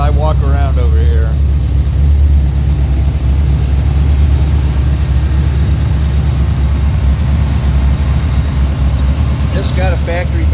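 A 1967 Pontiac GTO with a 400 V8 rumbles loud and close in a deep, steady idle with no clear rev peaks, while a person talks briefly at the start and end.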